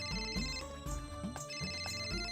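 A telephone ringtone plays in a lively TV comedy scene, a repeating electronic melody with rhythmic bell-like pulses, fairly loud and continuous with no talking over it.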